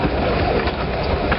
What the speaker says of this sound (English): Here's another train. Look at that.